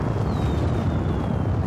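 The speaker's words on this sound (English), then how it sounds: "let's see if we can set off that rocket engine" A rocket engine fires in the Disney Infinity 3.0 Toy Box racing game on the Hawaiian Grand Prix track, a loud continuous roaring rush with a faint falling whistle, with no talk.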